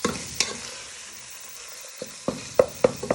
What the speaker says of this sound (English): And just keep breaking it apart with your wooden spoon.